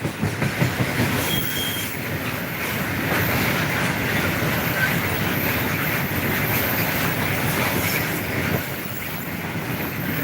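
A long Babaranjang coal freight train rolls past nearby in Prabumulih, a continuous loud rumble with rhythmic wheel clatter and faint squeals lasting the whole stretch, no voices.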